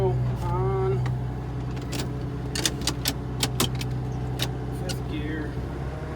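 A farm tractor runs with its PTO engaged, driving a chain-and-sprocket spreader in a field. There is a steady, close engine drone with scattered metallic clicks and rattles, and a voice is faintly present.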